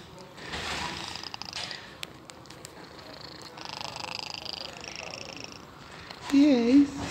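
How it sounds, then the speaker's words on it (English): A cat at a cat sanctuary in Cyprus purrs softly with a low, rumbling flutter. Someone talks gently over it throughout. "You're a pretty little kitty."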